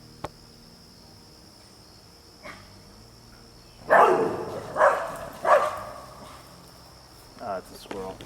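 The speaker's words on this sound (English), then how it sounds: "Let's see what the dog's barking at." Dog barking outdoors in a Connecticut garden in August, a few sharp barks in a short burst mid-clip with another fainter bark later, over a steady drone of crickets and insects.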